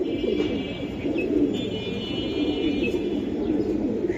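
A pair of old-line Giribaj pigeons of the Bagha, black-necked type coo in low, rolling, continuous murmurs close by, with no talking.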